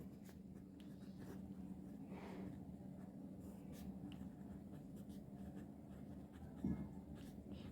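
A teacher writes on a board during a chemistry lesson, producing faint, continuous scratchy strokes in a quiet room with a low steady background hum and one brief soft thump near the end.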